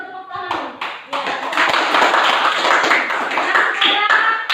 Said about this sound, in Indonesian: Tapi baru tepuk tangan dulu